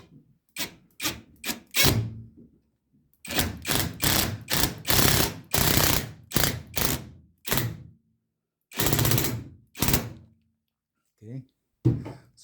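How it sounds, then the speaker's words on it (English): A screw is driven while a Sharp microwave is mounted beneath a cabinet, giving a series of close rubbing, thunking bursts of driving, with short pauses and a few stops along the way. "We'll screw our first one into here."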